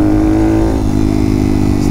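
A Honda Monkey motorcycle rides along a dirt trail, its small engine droning loudly and steadily up close with slight shifts in pitch, no speech.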